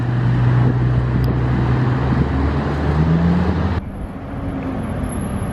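An Aston Martin DB11 sports car passes in Monaco with a steady engine drone that rises and falls, loud and close, then cuts to quieter, more distant road noise.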